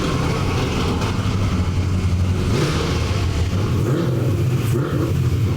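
A hotrod engine fitted with an Edelbrock Pro Flow 4 EFI roars on a chassis dyno pull, a loud, continuous, rumbling drone that holds steady throughout with slight rises, and no voices.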